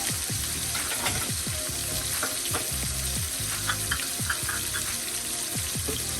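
French toast sausage dogs fry in a pan, giving a constant crackling sizzle with repeated spatula scrapes and taps, close and steady, with no voices.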